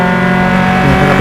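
Loud engine of a Formula Atlantic single-seater race car on the Mid-Ohio track at an SCCA club race, a high sustained tone roaring close by as it passes.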